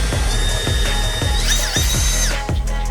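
A power drill whines steadily at close range while bursts of grinding chatter repeat about every half second as the bit bores a hole in a car's center console.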